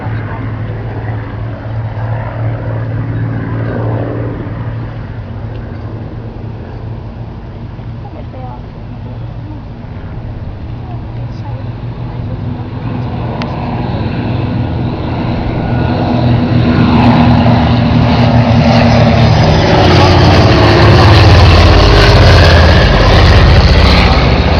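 Piston engines of a Dragon Rapide and an Avro Anson, two British light transports flying together, make a steady droning roar that grows louder toward the end, with someone talking over it.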